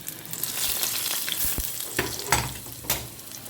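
Hot oil tempering with mustard seeds, curry leaves and chili hisses loudly as it hits cucumber raita, a dense sizzle broken by a few sharp crackles.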